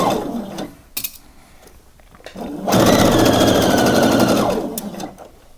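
A sewing machine stitches a blouse sleeve seam in one loud, steady burst of rapid mechanical clatter lasting about two seconds, preceded by quieter handling sounds and a few short taps.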